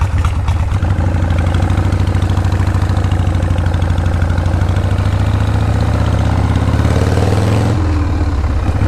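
A Harley-Davidson Shovelhead motorcycle engine runs loud and close with a steady, throbbing low rumble throughout, its tone shifting briefly near the end as the bike pulls away.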